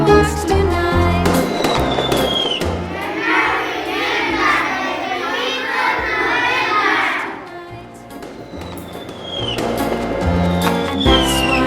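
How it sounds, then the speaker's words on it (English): Bonfire Night fireworks in a schoolyard, with sharp crackling bursts at the start and end and a long stretch of lively crowd and children's voices in between. "that's why we light fireworks tonight"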